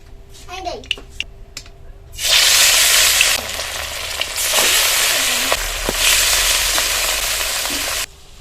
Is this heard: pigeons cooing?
no